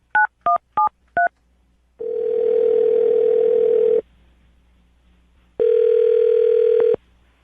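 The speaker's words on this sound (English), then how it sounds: "I'm going to dial the phone number right now" Four quick touch-tone beeps as a phone number is keyed in, followed by two long, steady telephone ringback tones separated by a short gap, clear and close with no voices.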